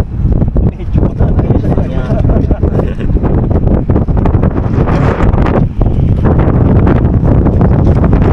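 Strong wind buffets the microphone on a seashore fishing outing in Al Khor, a loud continuous roar with gusty swells throughout, and people talking faintly beneath it.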